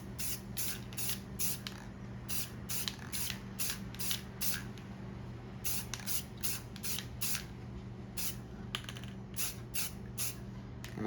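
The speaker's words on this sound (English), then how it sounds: "This spray is much better." A spray paint can hisses in short repeated bursts of varying length while painting a Rathian figure in spring green, with steady low background hum beneath.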